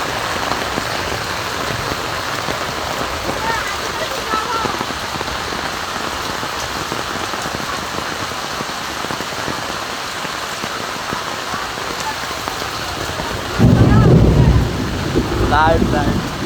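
Heavy rain pours steadily during a severe flood in Noakhali, a dense, loud hiss of drops on water and surfaces throughout, with wind buffeting the microphone and a louder rush near the end.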